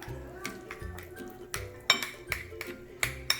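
A spoon stirs brown sugar and cinnamon into oatmeal in a dish, producing repeated ringing clinks and scrapes against the side at an uneven rhythm, close and moderately loud.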